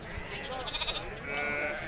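Sheep bleating at an outdoor livestock market in Timahdit, with drawn-out, wavering calls over a constant crowd murmur.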